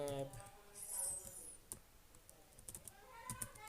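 Faint, scattered keystrokes on a computer keyboard while typing a command into a Linux terminal, a few soft clicks clustered near the end, with a person speaking quietly under them.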